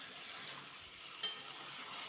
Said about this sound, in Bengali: মশলাটা দিয়ে আলু চিকেন দিয়ে সব কিছু দিয়ে কষানো প্রায় কমপ্লিট